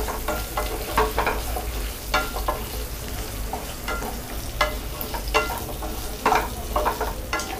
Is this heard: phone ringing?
no